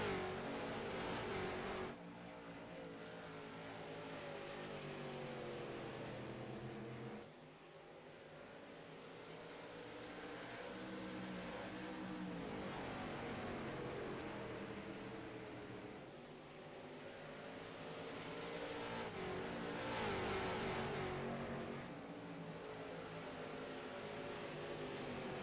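Late model race cars in the iRacing video game during the last lap of a heat race, a continuous loud engine roar with rising and falling revs as cars accelerate and pass, no voices present.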